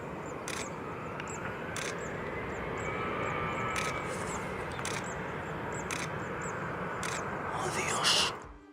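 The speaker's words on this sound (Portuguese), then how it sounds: "viram outro avião se aproximando rapidamente deles durante o pouso" An airplane engine roars steadily on an airport runway in Barcelona, a broad continuous rumble that swells slightly toward the end, with a faint higher whine rising in the middle.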